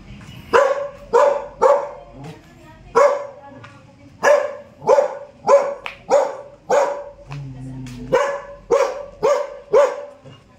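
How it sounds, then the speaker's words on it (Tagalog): A dog barks repeatedly in steady, loud single barks, close by, with brief pauses between them and a few quieter whimpers. "Nakakulong yung aso."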